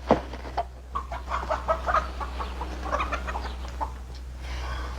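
Chickens cluck in a front yard, a scattered run of short, mid-level calls over a steady low hum, with no talk over them.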